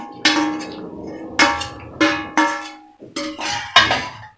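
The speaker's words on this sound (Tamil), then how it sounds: "இப்போ இதை நல்லா மிக்ஸ் பண்ணிடலாம்" Spoon clinks against a steel bowl while tempering is stirred into curd rice, six sharp metallic knocks in an irregular rhythm, each ringing briefly before fading, close and fairly loud with no talk.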